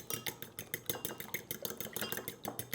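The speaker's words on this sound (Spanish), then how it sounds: "Para eso vamos a utilizar 2 huevos." Two eggs beaten in a bowl with a utensil, a fast, even run of close clicking strokes against the bowl, with no speech.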